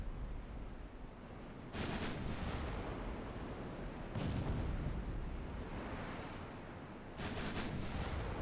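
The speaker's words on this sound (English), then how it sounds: "There's 4 turrets being fired now. Getting that full broadside to bear slowly." Warship turrets fire a broadside in the naval game Ultimate Admiral Dreadnoughts: a few deep, booming salvos over a constant rumbling wash like surf, distant-sounding and fairly quiet.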